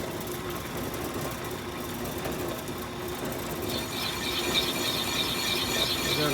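A part being turned into a Norton Commando gearbox, giving a close, continuous ratcheting, clicking mechanical whir that grows slightly louder and brighter toward the end.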